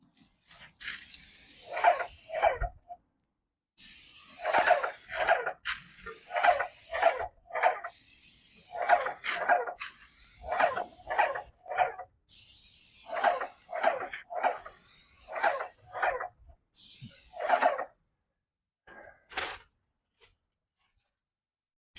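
Repeated bursts of spray paint hissing from a can onto a garage door, short sprays separated by brief pauses, close and loud, with faint rattling between passes.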